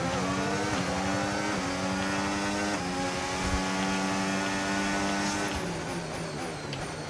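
A race car engine in a racing video game revs up through rising gears, a loud steady whine with repeated pitch climbs and shifts, heard alone without talk.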